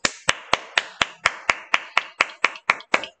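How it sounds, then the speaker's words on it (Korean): A small group of students clapping together in a classroom, about a dozen sharp, evenly spaced claps in a steady rhythm, close and clear with no talk over them. "박수!"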